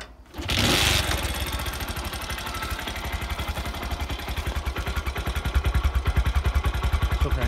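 A Bajaj Platina motorcycle engine starts and settles into idle, its exhaust putting out a close, even, rapid chugging that grows slightly louder and more pulsing toward the end.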